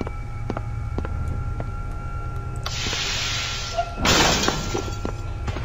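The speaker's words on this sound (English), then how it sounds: "Oh god, he broke the glass." An SCP creature smashing through glass in SCP Containment Breach, a sudden bright shatter and scattered crash of fragments, followed moments later by a second louder burst of breaking glass over a quiet humming background.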